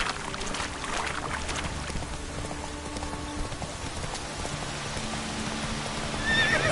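Roach, a horse in The Witcher video game, heard as continuous hoofbeats and movement under a dense bed of game ambience and music, with a neigh near the end; no one speaks.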